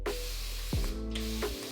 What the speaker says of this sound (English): I'm gonna take this spray bottle and we're gonna spray the hair